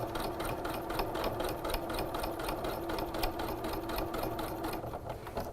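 A sewing machine back stitches through woven windowpane fabric: a continuous, close, rhythmic mechanical chatter with even needle beats and no talking.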